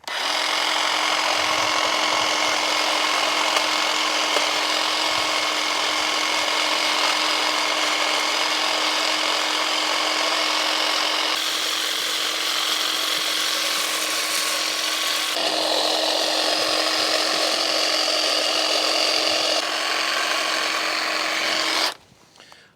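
A Litheli U20 cordless hedge trimmer cuts a hedge in a long continuous burst. The loud, steady high-pitched motor buzz and blade chatter change slightly as the trimmer moves through the branches, then stop abruptly near the end.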